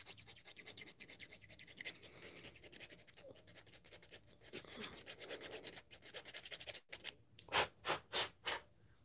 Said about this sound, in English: Nemesis is still sticking to the launcher, so I'm just sanding a little off.